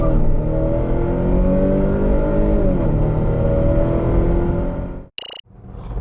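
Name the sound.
Volvo S90 B5 accelerating hard, acceleration test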